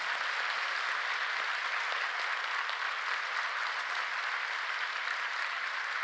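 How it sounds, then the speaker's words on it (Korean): A church congregation at a Friday night worship service applauds to encourage the teachers, producing steady, dense clapping that holds evenly throughout with no voices over it. "그들을 격려하는 박수 한번 치겠습니다"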